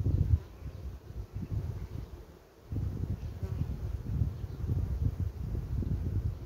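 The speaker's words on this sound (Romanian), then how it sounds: "Albina e liniștită" Honeybees hum steadily at a hive frame, a close, continuous buzzing drone that dips briefly midway before resuming.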